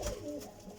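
Pigeons in a breeder setup, golden red Badshah and Ferozpuri birds among them, give a brief low coo, close and fairly soft against background hiss.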